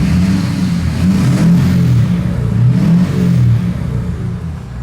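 A 2011 Ford F350 with a replacement 6.7 Powerstroke diesel engine revs up and down several times close by, its low rumble rising and falling steadily with no talking.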